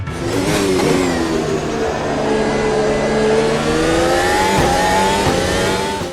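A Formula car engine revving hard at Kyalami in Automobilista 2, a loud continuous high-pitched whine rising and falling through gear changes, close and alone without talk.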